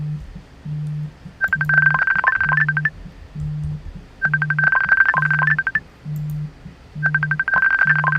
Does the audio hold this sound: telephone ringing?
yes